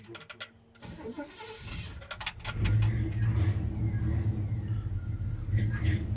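A 1965 Chevy C10 pickup engine cranks and starts, then idles with a low, steady rumble and some revving, close by with faint clicks before.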